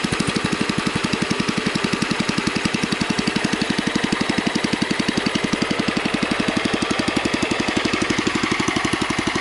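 A Husky engine idles smoothly and loudly with a fast, even pulse, steady throughout with no surging.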